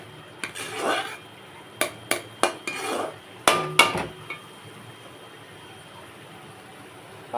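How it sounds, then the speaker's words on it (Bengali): Spices such as cumin are stirred while they sauté in a pan: a spoon scrapes and clanks against the metal in a burst of sharp strokes, then quiet low background follows. "এবার একটু কষতে থাকবো।"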